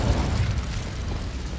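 A Confringo fire spell blasts in Hogwarts Legacy, a dense low rumbling explosion that holds steady for under two seconds and tails off slightly, with no voices.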